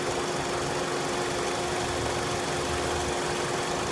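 A car engine with an ignition misfire idles close by, a steady, continuous mechanical drone with a hum and a faint uneven roughness, and no voices over it.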